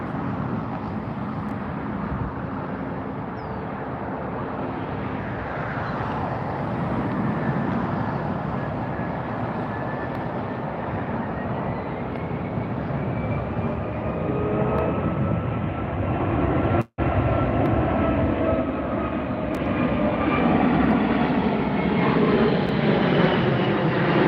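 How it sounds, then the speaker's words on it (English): A Qantas Airbus A380 on a go-around near LAX roars overhead, its deep, broad engine rumble swelling and sustained throughout, loud and near, with a brief dropout near the end. "So this is the flight from Sydney, Qantas Flight 11, A380. It's doing a go around right now."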